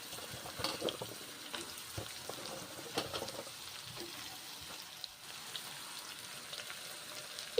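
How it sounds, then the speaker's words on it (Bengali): Pieces of ridge gourd fry in white oil in a pan, giving a quiet, continuous sizzle dotted with small pops and crackles and an occasional soft stir, with no one speaking. "সাদা তেল দিয়ে রান্না করছি ঝিঙ্গেগুলো ভেজে নিচ্ছি এখন"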